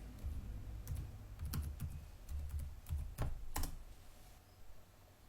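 Password keys tapped on a computer keyboard while logging into a Windows Server 2012 machine, a short irregular run of close, crisp clicks with brief pauses between them and no talking.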